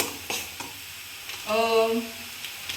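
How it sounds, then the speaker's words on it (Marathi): Mutton curry is mixed with spices in a pan, with soft scraping and sizzling strokes and a short tonal squeak midway. It is close and fairly quiet, with no talking. "तर हे छान मिक्स करून घेते."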